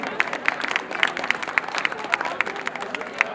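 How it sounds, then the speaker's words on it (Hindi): An audience at a Holi celebration event claps steadily, a dense ongoing patter of hands with crowd murmur underneath, moderately loud and spread across the room. "और तालियां तो बजनी चाहिए हमारे फर्स्ट शो से भी।"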